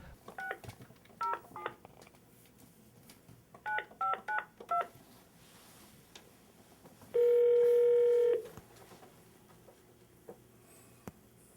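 A telephone keypad is dialed in two quick bursts of tones, then a long ringback or dial tone sounds once, close and clear in a quiet room.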